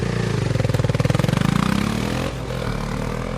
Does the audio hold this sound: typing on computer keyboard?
no